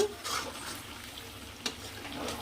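Chicken frying in a pan at home with salt and chili powder, a soft steady sizzle broken by a few stirring scrapes, faint and close.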